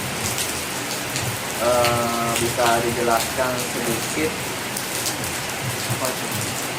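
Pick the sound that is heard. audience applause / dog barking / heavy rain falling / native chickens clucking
heavy rain falling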